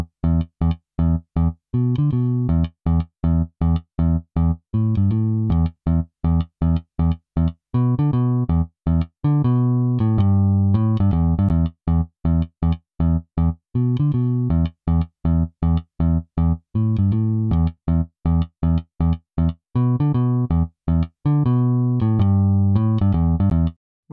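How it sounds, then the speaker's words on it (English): Bass guitar track with added noise switched in and out, a steady stream of punchy, evenly rhythmic bass notes playing continuously for over twenty seconds with no talking. "here's an example where the noise is switched in and out"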